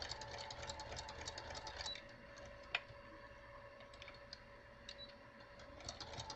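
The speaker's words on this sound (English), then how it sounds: "we're going to just stitch, stitch, stitch" A sewing machine stitching a roughly ten-inch square fabric pocket, a quiet steady mechanical whir with faint rhythmic ticking and a few small clicks, heard alone at low volume.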